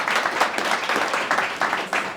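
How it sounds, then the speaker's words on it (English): Audience applause for Lady Jade at a Black History Month brunch conversation on business and banking, a steady dense patter of many hands clapping close by, slightly uneven, with no speech over it. "let's give a round of applause again to Lady Jade"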